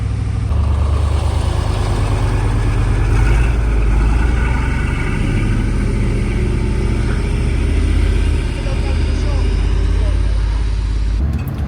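A big lorry rumbles past a 4x4 Sprinter campervan parked at a quiet European spot, its low engine drone steady and loud for the whole stretch, with people talking over it.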